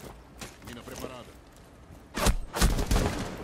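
A few sharp bursts of gunfire in the video game Rainbow Six Siege crack close by in quick succession near the end, following a stretch of quiet talk and muffled activity.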